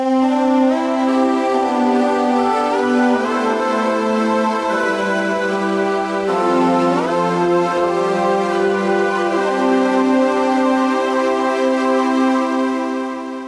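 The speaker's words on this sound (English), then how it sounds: "I've got a patch open in SampleWiz that sounds like this." A synthesizer patch loaded in the SampleWiz app plays sustained, evolving tonal chords with gliding pitch changes, loud and continuous throughout with no talking.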